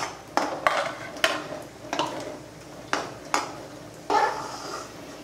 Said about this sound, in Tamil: முதல்ல நம்ம கேஷ்யூ நட்ஸ் போட்டுக்கலாம். லைட்டாக ஒரு ப்ரௌன் கலர் ஆகிறது வரைக்கும் வறுத்துக்கலாம்.